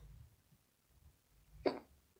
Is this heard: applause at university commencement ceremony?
no